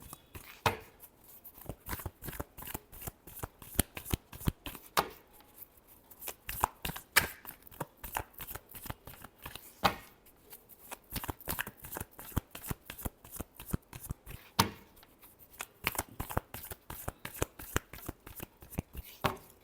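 Tarot cards are shuffled by hand close up, in quick repeated riffling and slapping bursts of crisp papery clicks with short pauses between them, with no talk over them.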